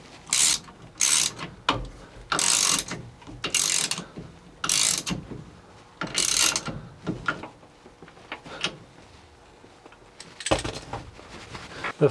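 A ratchet wrench tightens the steering wheel nut on a 1960s Chevy C10 pickup, giving a series of close, sharp ratcheting bursts, loud at first and growing fainter and sparser toward the end.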